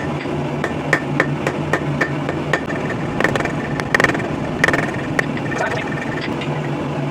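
Hammer strikes on a rivet held in a scrap-steel rivet header at a blacksmith's bench, a steady run of sharp ringing blows, some clustered in quick doubles, over a constant low mechanical hum.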